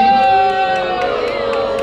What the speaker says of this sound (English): some claps, some boos